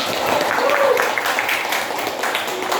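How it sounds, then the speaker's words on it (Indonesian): A school class applauds after a student presentation, giving a short burst of steady clapping with voices mixed in. "Tepuk tangan dulu."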